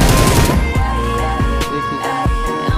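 Loud, close automatic gunfire in the mobile battle royale game BGMI: rapid bursts of shots crack in quick succession, with a few separate sharp reports toward the end.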